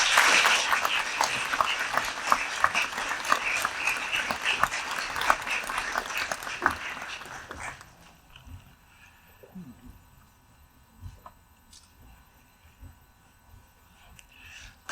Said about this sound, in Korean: 나오실 때 뜨거운 격려의 박수 부탁드립니다.